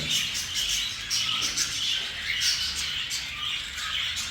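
A flock of cockatiels, including pearl and black-headed birds, calls from an aviary in a busy overlapping chorus of shrill chirps and squawks, repeating continuously and fairly close.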